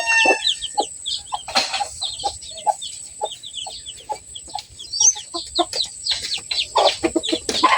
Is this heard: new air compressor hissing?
no